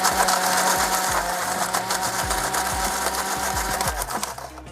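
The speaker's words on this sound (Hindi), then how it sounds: "इसको भी और ब्लेंड करते हैं" Kitchen blender whirring as it blends Thai red curry paste with coconut powder, a loud, close, continuous motor drone with pulsing, churning fluctuations throughout.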